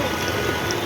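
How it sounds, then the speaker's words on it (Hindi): Rain falling steadily on a flooded street in Green Park after heavy rain, a dense, even hiss of drops close by, brief and uninterrupted. "इतनी सी बारिश में।"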